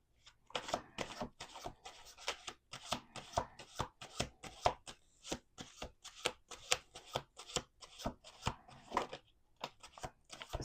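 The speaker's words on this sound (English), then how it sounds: "One more shuffle." A deck of playing cards being shuffled up close, a rapid run of crisp riffling bursts and soft slaps repeating steadily, with no talk.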